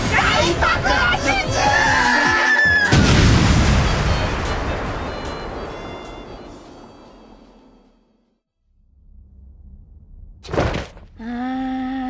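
Big explosion spell effect from a Disgaea drama CD: a loud, sudden blast that rumbles and decays over several seconds, then brief silence before a short sharp burst and tonal sound.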